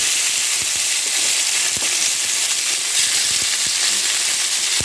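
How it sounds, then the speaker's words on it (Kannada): Chicken pieces sizzle and fry in masala over a low flame, a loud, steady crackling hiss with occasional stirring scrapes throughout. "ಇವಾಗ ಸ್ವಲ್ಪ ಫ್ರೈ ಮಾಡಿ ಮಾಡಿಕೊಳ್ಳಬೇಕು ಸಣ್ಣ ಉರಿಯಬೇಕು"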